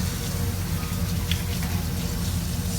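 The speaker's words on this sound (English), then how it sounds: "Washing your hands is always important." Hands are washed under a running kitchen tap in a steady, close splash of flowing water, with no talking.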